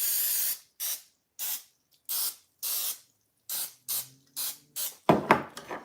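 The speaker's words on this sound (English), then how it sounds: "So I sprayed just a little bit to get the bottom of the muffin pan." Cooking spray hissing into a muffin pan in a series of about nine short, close bursts, evenly spaced, each a bright sharp spritz, with a brief clatter at the end.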